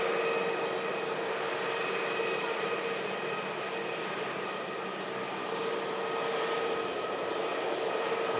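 Ryanair Boeing 737 Max jet starting its takeoff roll at Manchester Airport, a steady broad engine roar with tonal whine, continuous and fairly loud throughout.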